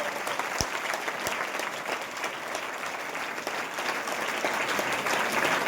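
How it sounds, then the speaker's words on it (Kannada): An audience at a felicitation ceremony for farmer leaders in Bagalkot district applauds, a sustained, even wash of clapping from many hands with a few sharper claps up front, lasting several seconds. "ಜೋರ ಚಪ್ಪಾಳೆ ಸಭೆ ಮಾಡಿ"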